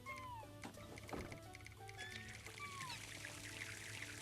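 A recorded real cat sound in a video game plays when the pet is clicked, several short meows over a steady background hum and game noise, with no talking.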